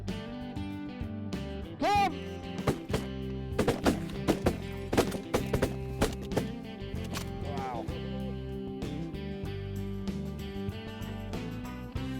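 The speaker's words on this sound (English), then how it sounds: "Hey, shoot that one up front." Shotguns fire during a fall duck hunt in South Dakota, sharp reports scattered through a busy outdoor background alongside calling sounds and faint talk.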